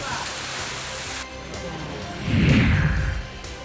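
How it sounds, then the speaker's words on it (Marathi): Heavy pre-monsoon rain driven by strong wind in Jeur, Nagar taluka, heard as a continuous dense roar that swells into a louder gusting rush toward the end. "नगर तालुक्यातील जेऊरमध्ये वादळी वाऱ्यासह जोरदार पाऊस सुरू झाला"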